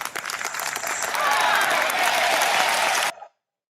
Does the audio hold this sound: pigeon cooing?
no